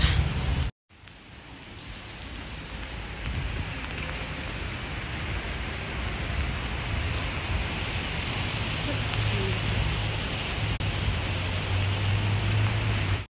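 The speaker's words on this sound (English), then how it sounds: "Oh, wow, it's raining out here. Raining and it's getting dark." Rain falls steadily outdoors as evening darkens, a dense, even hiss that continues for the whole stretch after a brief cut near the start.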